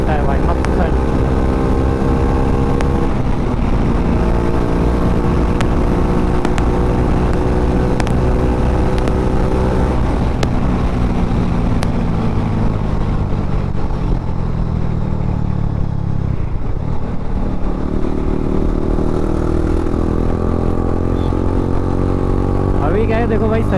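TVS Apache RR310 motorcycle ridden just after servicing, its engine droning loud and close with rising and falling revs and steady wind rush, and someone speaking over it now and then.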